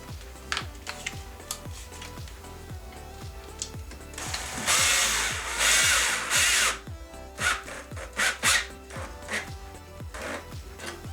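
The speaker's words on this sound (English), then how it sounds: "I'm just using a screw gun to put the screws into these 2 supports to the legs" Screw gun driving screws into the wooden leg supports of a bar stool, repeated short motor whirs in bursts with a couple of longer high-pitched runs, close and fairly quiet, with no talk.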